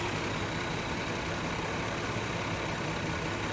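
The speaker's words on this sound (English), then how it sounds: "the engine is going to stabilize right now at about 650" A 2000 Toyota 3.0 VVT engine idling with a misfire, a steady, even mechanical drone heard up close with no pauses or talking.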